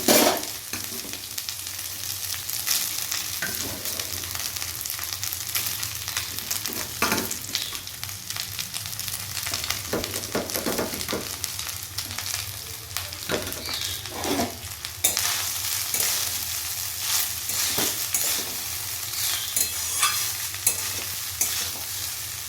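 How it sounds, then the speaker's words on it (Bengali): Fried rice with vegetables being stirred and tossed in a pan, a steady sizzle of frying running throughout with repeated scraping stirs and occasional utensil clinks, close and continuous with no talking. "সমস্ত ভাতটা কিন্তু খুব সুন্দরভাবে মিশিয়ে নিচ্ছি"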